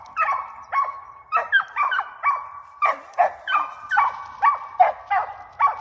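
A four-and-a-half-month-old squirrel-dog puppy barks close by in a steady series of sharp, high yips, about a dozen in quick rhythm.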